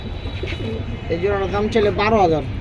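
Pigeons at a Bengali pigeon sale coo in soft warbling phrases close by, with a low room hum beneath the calls.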